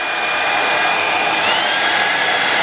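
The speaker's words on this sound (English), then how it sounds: "we're going to go again with the hairdryer." A hairdryer blows steadily on wet watercolour paint in a creative journal, a loud, close, unbroken whoosh of air with a faint whine holding throughout.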